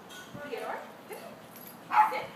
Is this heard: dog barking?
yes